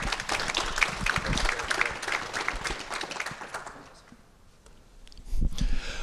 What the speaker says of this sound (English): So everyone, just a big round of applause and a welcome.